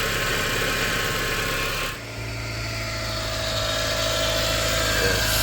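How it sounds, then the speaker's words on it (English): A noisy power steering pump runs on the idling engine of a Mazda NC Miata, a loud continuous mechanical drone that dips briefly, then settles into a steadier hum with a faint whine riding on top. "next I am attacking the power steering pump because it's making a lot of noise"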